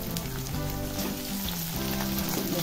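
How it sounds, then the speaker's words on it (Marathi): Garlic and large-cut green chilies sizzle steadily in a pan, a continuous close frying hiss with faint stirring and low background tones, no one talking. "लसूण मिरच्या भाजत आलेला आहे."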